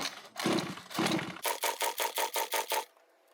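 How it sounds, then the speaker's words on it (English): A flooded Zenoah RC engine is cranked by its recoil starter: two long drawn pulls followed by a quick run of about nine short rhythmic pulls, close and clear, with no voices. "Now I'm going to pull the starter for a while and just see how bad I can make it."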